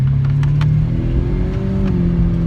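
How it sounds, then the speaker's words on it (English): A Lamborghini Aventador SV at an Italian sports car day runs with a steady, close, loud engine hum that swells slightly as it revs. "Listen to that engine hum on the car."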